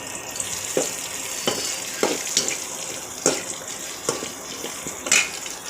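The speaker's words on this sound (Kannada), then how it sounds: "ಜಜ್ಜಿಟ್ಟಿರೋ ಬೆಳ್ಳುಳ್ಳಿ ಹಾಕ್ತಾಯಿದ್ದೀನಿ. ನೀಟಾಗೆಲ್ಲ ಮಿಕ್ಸ್ ಮಾಡ್ಕೊಳ್ಳಿ. ಎಣ್ಣೆಲೇ ಬೇಯಬೇಕಿದು" Crushed garlic sizzles in oil in a pan, with a steady frying hiss broken by regular scraping stirs about once a second.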